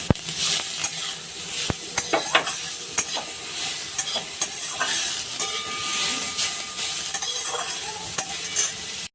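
Beetroot with oil and mustard seeds frying in a wok for tomato chutney, a loud continuous sizzle under steady stirring and occasional scrapes of a utensil against the pan, with no talk.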